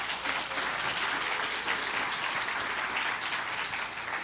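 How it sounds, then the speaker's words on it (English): Steady audience applause at a technical conference session, sustained and fairly dense throughout, with no voices standing out over the clapping. "And a big round of applause for our moderators for keeping us on time."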